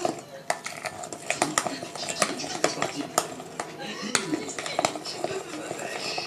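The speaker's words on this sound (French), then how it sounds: "Ensuite, on mélange bien pour avoir une pâte bien lisse." Chocolate cake batter being mixed in a bowl, with repeated clinks and scrapes of a utensil against the bowl in an irregular rhythm, close and fairly clear, with light talk underneath.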